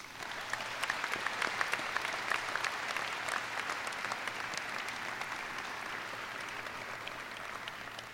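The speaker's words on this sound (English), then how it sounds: "please give your support system a round of applause." Audience at the Anderson High School graduation ceremony for the class of 2026 applauding the students' support system: steady, dense clapping from a large crowd that holds evenly throughout.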